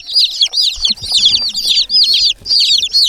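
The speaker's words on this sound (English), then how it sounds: "chickens! They're so cute." A group of tiny newly bought chicks peep nonstop, a dense, overlapping chorus of shrill, high cheeps close by, with a few soft low thumps underneath and no talking.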